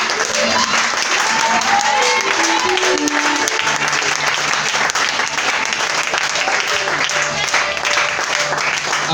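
A church congregation stands and applauds in sustained, loud clapping mixed with cheering voices, a dense steady wash of hands that fills the space without letup.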